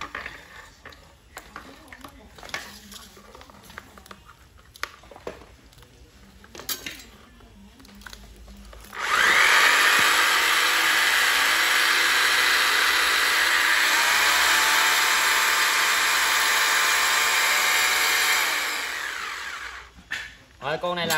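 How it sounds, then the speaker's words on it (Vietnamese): A Hitachi 100 V electric planer with an 82 mm blade and 570 W motor is handled with light clatter, then runs loud and steady for about ten seconds before winding down. "Đây là con bào Hitachi lưỡi 82 570W, mã 522 giá 350k anh em nha"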